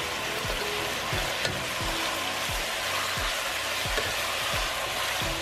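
Seasoned chicken fajita meat sizzles and fries in a pan, a steady close crackle with regular scraping stirs every half second or so.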